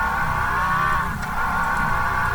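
A car engine in a Roblox video game drones at a steady, buzzing pitch, running continuously and fairly loud with a brief dip midway, no voices over it.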